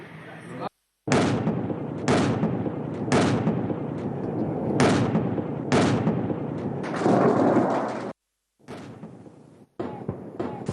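Military live-fire exercise at Tindouf, Algeria, with various weapons: repeated loud, broad blasts and bursts of gunfire, partly masked by someone speaking over them and cut by brief gaps of silence.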